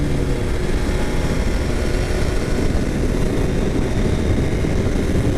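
An MV Agusta F3 800 motorcycle rides on the open road, steady loud engine drone mixed with heavy wind rush throughout, no talk.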